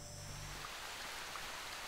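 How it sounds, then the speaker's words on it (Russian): Steady rain in a video game (Народная Солянка mod) falls as a soft, even hiss of drops throughout, faint and unbroken, with no voices. "Как видите, погодка тут не задалась. Дождик, туман."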